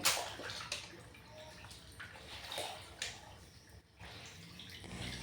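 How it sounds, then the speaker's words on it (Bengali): A house floor mopped with water in the morning, producing continuous wet swishing and sloshing, steady and moderately close, with occasional louder strokes and no talking. "ঘর মুছবো এখন"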